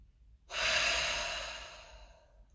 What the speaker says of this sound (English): And another inhale and long exhale, release.